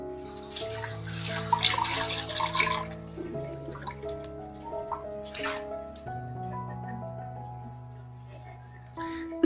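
A dirty water purifier filter rinsed under running tap water at home, with splashing bursts of flowing water near the start and again midway, heard over steady background music.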